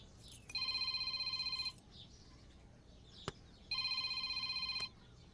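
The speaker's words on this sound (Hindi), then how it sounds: "फोन उठाओ" Telephone ringing indoors in a family drama, two bright electronic ring bursts of about a second each separated by a pause, fairly loud and close, no speech.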